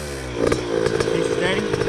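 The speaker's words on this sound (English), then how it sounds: "My bike's sputtering." A Yamaha YZ125 two-stroke dirt bike engine sputters and pops unevenly at close range, with a buzzy, irregular idle and brief surges, while a person talks over it.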